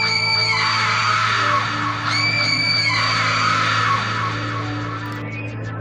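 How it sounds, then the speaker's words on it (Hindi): Loud, sustained shrieking screams, rising and falling in repeated bursts over a heavy low hum, piercing and close throughout. "फिर एकदम से जोर जोर से चीखने की आवाज़ आई"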